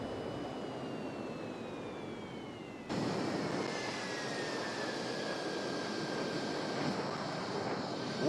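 Jet aircraft engines roaring in Microsoft Flight Simulator 2020 during a group flight over the Four Corners region of the USA, a steady broadband rush with a slowly falling whine that jumps louder partway through.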